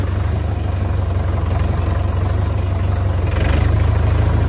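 A tractor engine runs at a steady idle, loud and close, with a constant low rumble and throbbing pulse throughout and no speech.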